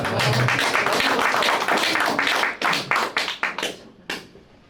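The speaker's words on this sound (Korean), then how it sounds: "저기 우리 강철한 대표님을 위해서 한 박수 한번 보내겠습니다." A lecture audience applauds North Korea Strategy Center head Kang Cheol-hwan at a Freedom Academy talk, the full clapping thinning out and breaking into a handful of scattered, separate claps before fading away.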